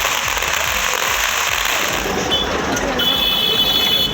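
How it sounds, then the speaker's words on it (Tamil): Firecrackers burst at a political supporters' street celebration in Sankarapuram, Theni district, making a loud, dense, continuous crackle with rapid pops and no pause. "பட்டாசுகள் வெடித்தும் இனிப்புகள் வழங்கியும் ஓ பன்னீர்செல்வத்தின் ஆதரவாளர்கள் கொண்டாடினர்."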